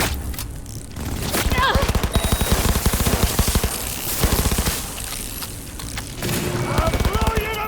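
Rapid automatic gunfire in a Cyberpunk 2077 Phantom Liberty firefight against Arasaka reinforcements, dense sustained bursts of shots with booms, loud and close throughout, with game voices shouting over it.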